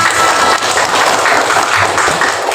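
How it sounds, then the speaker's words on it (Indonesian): A fifth-grade class applauds together in a classroom, a brief, dense burst of clapping, close and loud, that stays even from start to finish. "Tepuk tangan untuk kita semua."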